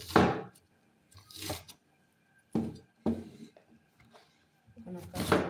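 A kitchen knife chops onions on a board for a soy-braised chicken and potato dish: a few separate bursts of cutting and scraping, close and moderately loud, with quiet gaps between them.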